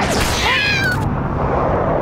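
A cartoon cat's meow in an animated series, loud and close, one drawn-out rising and falling cry over a busy background of music and effects.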